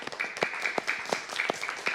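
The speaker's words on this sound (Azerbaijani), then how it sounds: "Bu münasibətlə istəyəcəm alqışlarla təbrik edəyək." A studio audience on an Azerbaijani children's television show claps for a girl's fourteenth birthday. The applause is moderately loud, with scattered hand claps over a steady wash of sound that runs the whole time, and no talk on top.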